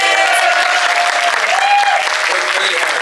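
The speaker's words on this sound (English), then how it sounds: "definitely give our Hyland staff a good applause as well." Audience applause for the staff of the Hyland Cinema at a Q&A, continuous clapping with faint talk and a few voices underneath.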